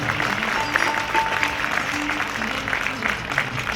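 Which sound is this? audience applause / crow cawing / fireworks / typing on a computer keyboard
audience applause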